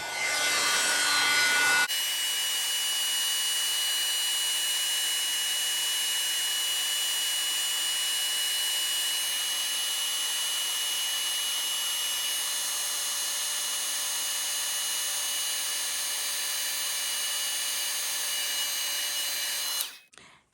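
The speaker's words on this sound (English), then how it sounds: "So now we are just going to hit this very quickly with the embossing gun." An embossing heat gun blows a steady, even hiss-like roar for about eighteen seconds, heating embossing powder on a Christmas tag, close and constant before it cuts off abruptly at the end.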